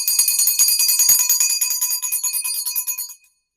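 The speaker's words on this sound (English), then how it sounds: "I will have to use my mom's bell" A hand bell rings rapidly and loudly up close, a fast shimmering jangle of metallic strokes that slows slightly before stopping abruptly into silence.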